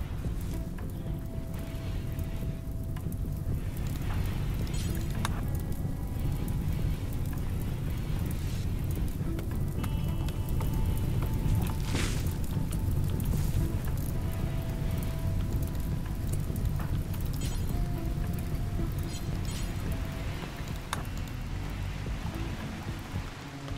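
Steady, dense rain patter from the video game RimWorld, a continuous wash of falling drops that stays evenly loud throughout, with faint low rumble underneath and no talking.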